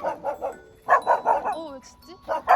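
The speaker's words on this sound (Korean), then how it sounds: "왜 짖지?" Two young foster puppies bark and yip indoors in a home, close and fairly loud, in short bursts of three or four sharp barks with brief whines between, as a person speaks softly nearby.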